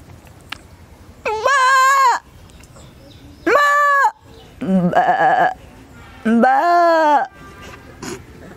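A voice imitates a goat's bleat, four loud, close, wavering bleats about a second long, evenly spaced with quiet gaps between them.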